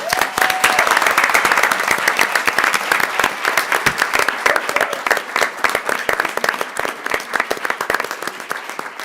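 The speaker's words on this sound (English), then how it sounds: "let's give a nice hand of welcome applause to the girls' state championship" A council meeting audience gives a sustained round of welcoming applause for a girls' state championship volleyball team, dense clapping that gradually thins toward the end.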